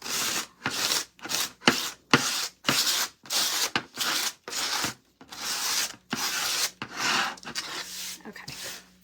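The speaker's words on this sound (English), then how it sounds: "I don't know how much of this is going to show, but it's just a piece of sandpaper." Sandpaper rubbed by hand on a craft piece, strokes repeating in a quick, steady back-and-forth rhythm of close scratchy bursts, with brief gaps and a faint hum underneath.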